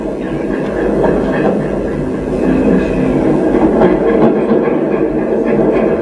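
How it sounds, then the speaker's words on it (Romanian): A train rumbles past close by, heavy wheels clattering rhythmically on the rails in a loud, sustained roar with no voices over it. "Nu, trenul."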